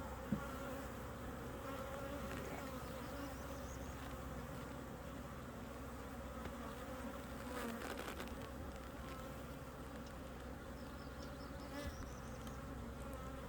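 Honey bees in an open backyard hive make a steady, dense buzzing hum that runs the whole time, close and even, with brief rustles of frames being handled.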